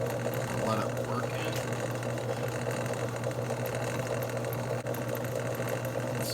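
A motorized buffer polishes the lock bar of a Cold Steel 4-Max knife with 4000 micron compound, a loud steady whirring hum that continues without a break.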